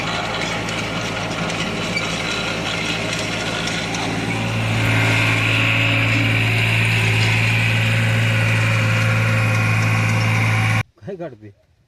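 A tractor with a rotavator attached idles at close range with a constant low rumble that grows heavier partway through before cutting off abruptly, followed by a brief voice.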